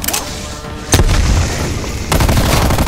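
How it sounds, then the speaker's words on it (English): Frag grenade blast in Call of Duty: Black Ops Cold War zombies mode, with sharp loud bursts and booms: one near the start, a heavy hit near one second, and another burst near the end over a dense rumbling wash. "Sending frag grenade."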